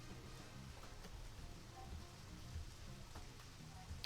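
Steady rainfall in the video game Deadly Premonition, a continuous patter of drops with a low rumbling bed beneath.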